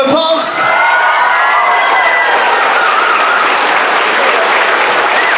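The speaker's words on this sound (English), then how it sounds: "can we give them a big round of applause?" A school audience bursts into loud applause at a transition year variety show, with sustained clapping joined by a few cheers and whoops, close and full for the whole stretch.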